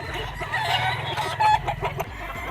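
A Golden Boy gamefowl rooster with a pea comb clucks repeatedly at close range on a game farm, giving a steady run of throaty calls with a louder burst partway through and no talking.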